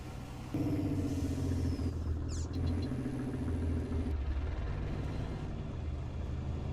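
A truck engine idles in Farming Simulator 19 with a low steady rumble, close and moderately loud, shifting in tone partway through, with no talking over it.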